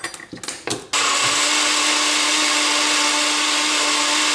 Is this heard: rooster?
no